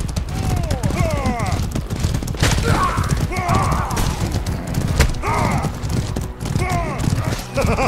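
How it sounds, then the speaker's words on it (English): Horse hooves galloping in the video game Mordhau, with rhythmic thudding clip-clop running under game noise, scattered sharp impacts and whinny-like calls, and a voice talking over it. "Just riding a horsey all day"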